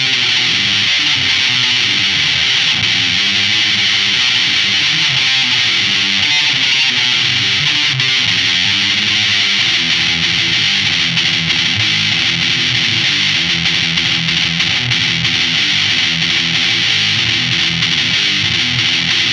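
Electric guitar run through Macroelasticus effects pedals, a dense, loud, continuous distorted tone with shifting chords and notes throughout, no talking.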